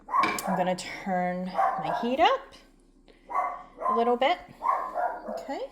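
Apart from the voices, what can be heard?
Cane Corso boxer dog barking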